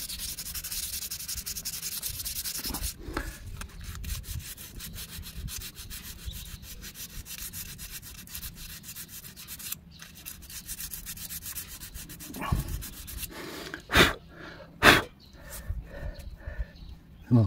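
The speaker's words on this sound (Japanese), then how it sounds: "とりあえず出っ張ったとこだけ大雑把に 今手で削って" Hand sanding aluminium putty on a scuffed aluminium wheel, likely with 240-grit paper: a steady, close scratchy rubbing that runs continuously, turning to a few sharper scrapes and taps near the end.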